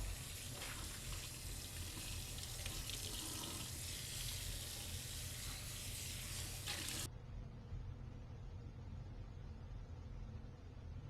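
Kitchen faucet running water over a cleaned burnt pan in a sink, a steady rushing splash for several seconds that then cuts to a quieter, muffled flow, faint overall.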